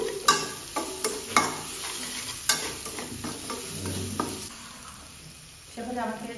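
Onions fry in oil in a pan with a close sizzle and a run of sharp scraping and clanking strokes from stirring. The hiss settles quieter near the end, with no talking.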